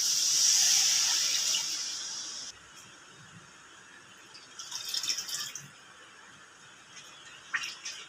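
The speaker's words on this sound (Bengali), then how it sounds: "এবার পরিমাণ মতো জল দেবো।" Water poured into hot spiced prawn curry masala raises a loud bright sizzle and hiss that fades after a couple of seconds, followed by quieter bubbling, clinks and faint rattles.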